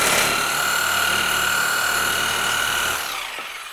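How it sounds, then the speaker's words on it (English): A reciprocating saw (Sawzall) cuts through the plastic Hyfax slide tail during a Kmod Gen 3 install, a steady loud motor whine with a bright high pitch that drops off near the end as the cut finishes. "Then the tail, I like using a sawzall rather than a hacksaw because it's got a little taper to it."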